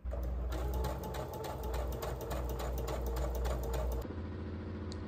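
A sewing machine stitches a straight hem along the bottom of a curtain, its needle running in a steady, fast, continuous rhythm up close for about four seconds before stopping abruptly, leaving a quieter hum.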